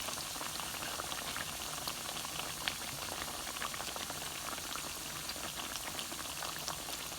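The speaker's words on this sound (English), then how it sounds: "We're going to let these baby fry on up" Breadcrumb-coated pork chops frying in oil over moderate heat, a soft, continuous bubbling sizzle with scattered tiny pops, fairly quiet and steady with no voices.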